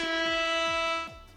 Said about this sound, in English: Just couldn't reach my air horn fast enough